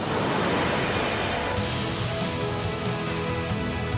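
Surf washes against the jagged cliffs of the rugged Crete coastline on the Mediterranean, a dense, steady roar of waves with a brightening swell partway through, heard alone.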